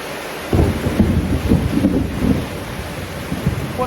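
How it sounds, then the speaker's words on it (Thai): Heavy rain, the first of the year, pours down late at night in a rural spot, a dense steady hiss with low rumbling swells that rise and fall beneath it. "ฝนตกมาปักแหงจักหน่อย"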